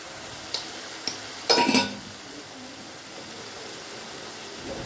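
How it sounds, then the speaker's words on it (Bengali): Tomato paste, ginger and green chillies are stirred in a pan, a few clinks of a spoon on metal and a brief scraping stir over a faint sizzle. "আদা আর টমেটোটা কষাতে কষাতে দিয়ে দিচ্ছি কয়েকটা চেরা কাঁচা লঙ্কা।"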